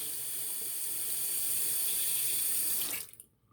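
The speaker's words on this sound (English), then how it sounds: "The razor does rinse very easily." A Rockwell T2 chrome safety razor rinsed under a running sink tap, a loud steady rushing stream that shuts off abruptly near the end.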